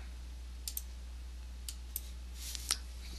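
A computer mouse clicks sharply a handful of times at uneven intervals, close and crisp over a faint steady hum, with no talking.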